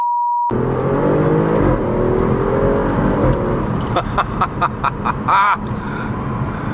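An Audi RS7's twin-turbo engine roars steadily as it accelerates, loud and close, with a sharp burst of revving and whooshing near the end.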